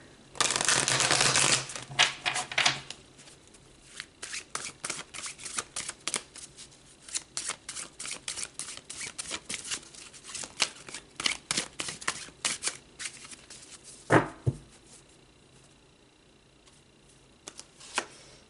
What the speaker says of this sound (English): let's pull some more tarot and go deeper